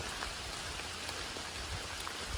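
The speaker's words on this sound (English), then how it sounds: "I don't know if you can see the rain or not, probably not, but you can hear it." Steady rain pattering on a surface along the Appalachian Trail near Harpers Ferry, with scattered drips standing out; a continuous, moderately quiet wash of sound with no voices.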